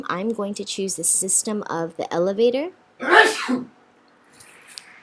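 One loud, close sneeze cuts in right after a man's speech, an abrupt explosive burst followed by near silence.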